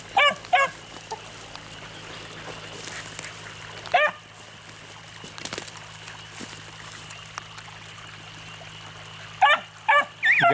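Beagles baying in bursts while running a rabbit down a rocky road and creek bed, clustered yelps at the start, middle and end over a steady low hum and outdoor noise.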